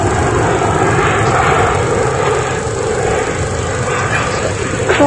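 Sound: Globemaster military transport aircraft landing

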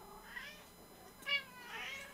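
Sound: cats meowing on the cat cam

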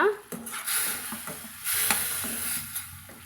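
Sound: stirring food in cooking pot

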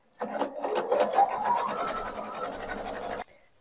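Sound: sewing machine stitching around fabric edges with polyester thread

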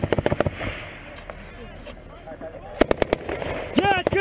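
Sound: gunfire during a U.S. Army firefight in Afghanistan

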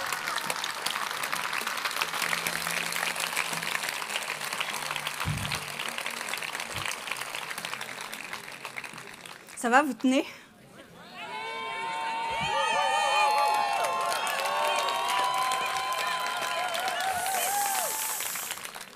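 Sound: audience applause at a political speech

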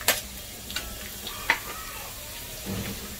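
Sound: light golden onion added back into the kadhai, sizzling

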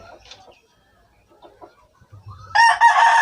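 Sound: chickens and roosters at a small chicken farm

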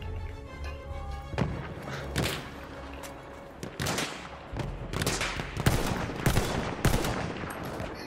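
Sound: enemy artillery barrage in video game Battlefield 1

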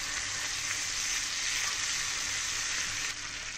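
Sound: masala sautéing in butter in a pan

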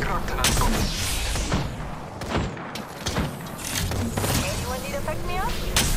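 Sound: gunfire hitting the player in Apex Legends video game

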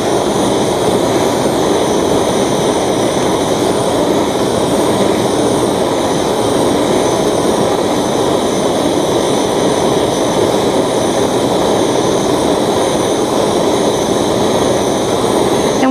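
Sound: torch heating a pendant piece before soldering

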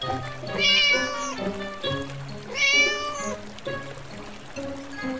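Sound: cat meowing

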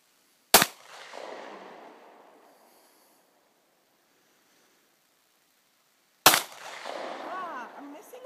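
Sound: handgun being fired at a target

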